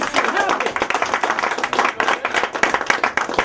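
Audience applause from a crowd at a talk in Philly, steady dense clapping that runs for several seconds with voices mixed in.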